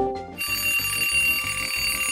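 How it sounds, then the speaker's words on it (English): Cartoon alarm ringing, a rapid, steady electronic bell rattle that starts abruptly after a brief tone and continues loud and unbroken. "Why the alarm?"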